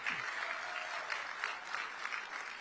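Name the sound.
audience applause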